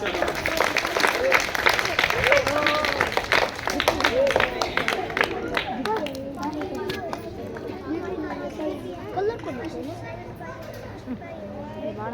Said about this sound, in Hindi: तो इन तीनों के लिए बेटा तालियां बजा दो